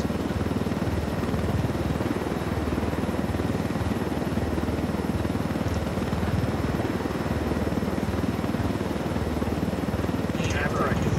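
Stolen helicopter flying in the video game Ghost Recon Wildlands, a steady, loud rotor drone that fills the whole stretch without a break, with a faint brief chirp near the end.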